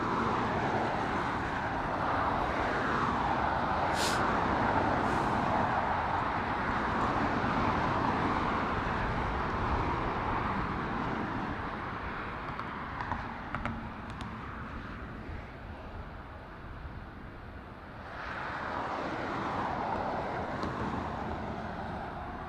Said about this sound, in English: We'll be pumping up the sound for you guys once it begins its takeoff roll.